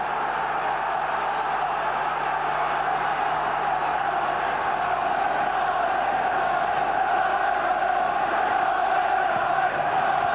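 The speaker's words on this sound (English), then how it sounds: "The crowd in raptures at Sunderland's display so far." Football stadium crowd at a 1992 Sunderland versus Middlesbrough match, a steady loud roar of cheering and chanting that holds throughout without letting up.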